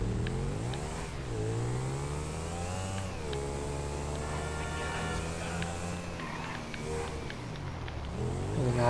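An ETR1 sports car engine in GTA 5 Online revs and accelerates continuously, a loud mid-pitched roar with rising and falling pitch sweeps as the game car drives, up close and without talk.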